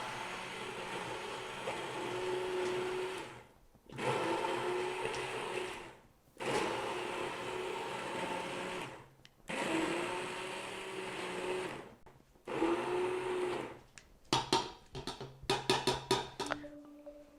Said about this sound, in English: And then I just go in with my hand blender and blend up,